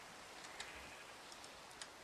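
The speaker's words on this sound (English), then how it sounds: "I have rain. Did they have rain back then?" Rain falls in Minecraft as a faint, steady hiss, with a few soft, scattered ticks of drops over the wash.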